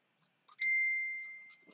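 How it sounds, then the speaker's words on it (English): A single clear ding from a phone as a message notification arrives, a bright tone that rings out and slowly fades in an otherwise quiet room. "We have another ding on the phone."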